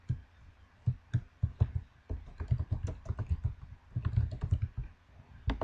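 Rapid clicking of computer keyboard keys being typed in close, uneven bursts with short pauses, while text is edited on a webpage.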